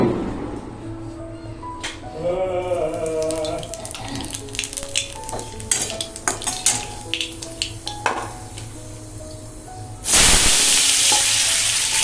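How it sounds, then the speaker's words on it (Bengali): Potatoes fry in a pan with a soft ongoing sizzle, joined by clinks of utensils and scraping stirs; near the end a louder burst of sizzling swells up close, with no one talking. "বাবার রাত্রের খাওয়ার জন্য একটু আলু ভেজে দিচ্ছি"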